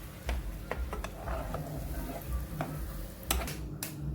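Butter melts in a pan with a spoonful of saffron added, giving a soft steady sizzle under intermittent stirring and scraping clicks; no one speaks.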